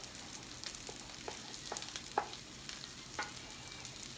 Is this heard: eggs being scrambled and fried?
yes